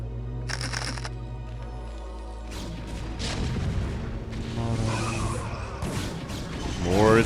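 Siege tanks fire on charging Zealots in StarCraft: Brood War, a busy mix of booming cannon blasts and clattering battle effects building to a loud burst at the end, with no talking.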